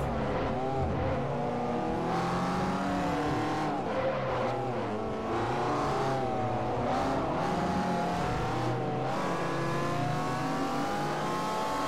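A Lancia rally car engine roars in the racing game Forza Motorsport 4, revving up and down through gear changes, with brief tire squeals along the way. The engine noise is loud and continuous, with no voices over it.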